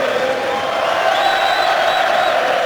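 Belfast fans cheer and roar for boxer Jamie Conlan at a title fight, a steady loud crowd din with whistles rising over it throughout.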